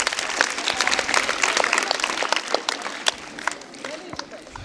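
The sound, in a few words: applause from an audience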